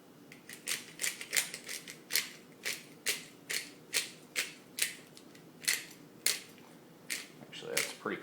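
A pepper grinder cranks coarse seasoning onto a ribeye steak, a series of crisp, close ratcheting clicks in an irregular rhythm, fairly quiet, with no one talking.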